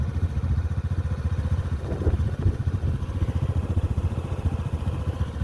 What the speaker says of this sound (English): Yep, I'm on the motorcycle, so let's go.